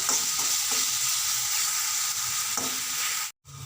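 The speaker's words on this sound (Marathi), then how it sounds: "आता हे छान भाजून घेते मी यामध्ये" Loud, continuous sizzling of a green pea paste frying in a hot pan, with occasional stirring scrapes and a brief break near the end.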